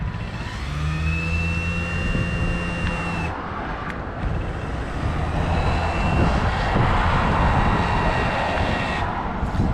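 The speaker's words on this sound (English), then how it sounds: "just to show the motor spinning up" A caravan motor mover's electric motor spins up near the tyres, a steady mechanical whir with tonal whine that shifts pitch and builds, running loud and continuous throughout.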